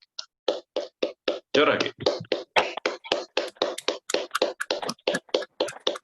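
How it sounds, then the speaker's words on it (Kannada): Meditation participants on an online call clap loudly and quickly in a rhythmic run of sharp claps, compressed and close, with a single brief spoken word near the start. "ಜೋರಾಗಿ ಚಪ್ಪಾಳೆ ತಟ್ಟಿ ನೀವು ಮಾಡಿರೋ ಧ್ಯಾನಕ್ಕೆ."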